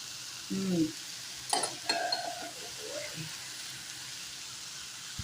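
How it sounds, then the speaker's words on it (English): Garlic goes into a large skillet of ground turkey with salt and pepper and fries with a quiet, steady sizzle, broken by a few soft stirring and utensil clinks. "here's where I'm going to add the garlic"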